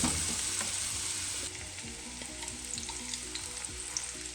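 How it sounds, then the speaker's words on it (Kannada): Banana and cashews frying in ghee in a pan, a steady close sizzle with occasional stirring scrapes throughout, no voices. "ಇದನ್ನು 5 ನಿಮಿಷ ಚೆನ್ನಾಗಿ ಫ್ರೈ ಮಾಡೋದ, ಹಾಗೆ ಸ್ಮ್ಯಾಶು ಮಾಡ್ಕೊಳ್ಳಿ ಅಷ್ಟೇ"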